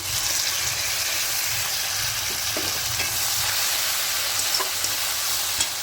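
Spices for a fish curry with eggplant, along with onion and tomato, fry quietly in a pan, a soft steady sizzle with light taps and scrapes of stirring, close and without talk.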